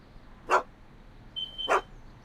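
A dog in the Back to the Future video game gives two short barks about a second apart, the second with a thin whine, fairly faint over low background hiss.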